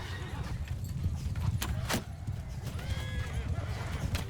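Horses pound along in a steppe battle video game with mounted horse archers, a steady low rumble of hooves with a few whinnies and sharp transient effects layered over it, continuous and fairly loud throughout.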